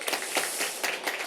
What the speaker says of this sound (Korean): 다시 한번 힘차게 격려 박수해 주시기 바랍니다.